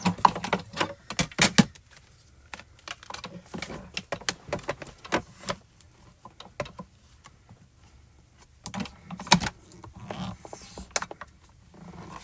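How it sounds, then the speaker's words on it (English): A hand-cranked embossing machine forces a folder holding very thick paper through its rollers. Irregular bursts of close clicking, ratcheting and creaking are separated by brief quiet pauses. "This one takes a little bit of extra muscle for me to get through here because of the paper being so thick."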